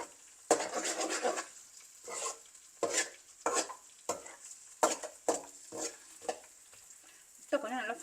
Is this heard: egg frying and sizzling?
yes